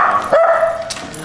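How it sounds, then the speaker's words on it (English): A guard dog barks once or twice at close range in a short, sharp burst, followed by a brief whining tone. "the guard dogs are here"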